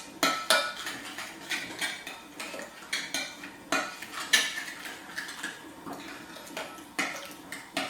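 A spoon clinks and scrapes in a bowl in a quick, irregular rhythm as a tandoori masala mix is stirred, close and moderately quiet with no talking.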